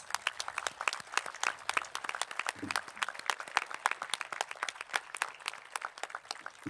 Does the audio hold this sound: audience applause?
yes